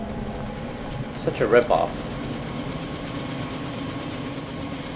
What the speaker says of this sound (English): There's our pilot and the helicopter that she uses.